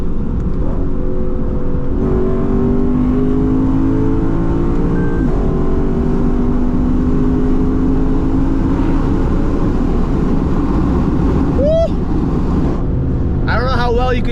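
A Lexus RCF with its stock exhaust in Sport Plus and manual mode, revving loudly and continuously through a hard pull in lower gears, the droning exhaust filling the cabin with brief shifts near the end.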